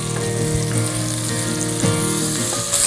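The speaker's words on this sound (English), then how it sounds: "we're gonna be sauteing our vegetables in the bacon fat" Vegetables sautéing in leftover bacon fat in a pan, a loud, steady close-up sizzle and crackle, with brief clinks of stirring near the end.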